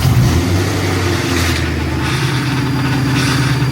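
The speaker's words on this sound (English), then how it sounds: "The drivetrain noises didn't change at all after the rod bearings" BMW E92 M3 with freshly replaced rod bearings, engine running with a steady droning drivetrain noise, loud and close, a low sustained hum with slight shifts in pitch and no talking.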